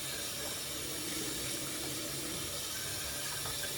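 Tap water runs steadily into a kitchen sink during dishwashing, a continuous close splashing stream throughout with no talking.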